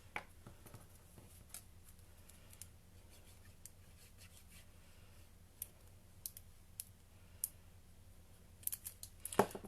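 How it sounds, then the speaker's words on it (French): Paper shapes being cut out by hand with scissors for a handmade Mother's Day card, a quiet run of soft snips and clicks at close range with small rustles between cuts. "je fais tous mes détourages à la main"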